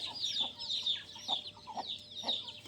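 Country chickens on a farm cluck and chatter repeatedly at moderate distance, short bursts coming every half second or so over a quiet, low background hum.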